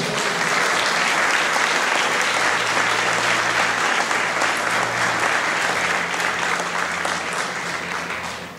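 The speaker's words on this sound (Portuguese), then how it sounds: "Vamos aplaudir ao Senhor." A church congregation applauds the Lord during a sermon, a loud, dense and steady wave of clapping from many hands that holds throughout and eases slightly at the end.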